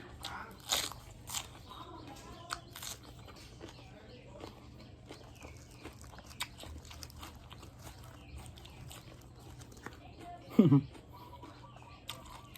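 Crispy fried tilapia is bitten and chewed at a meal, with faint, scattered crunches over quiet background noise and one sharper bite near the end.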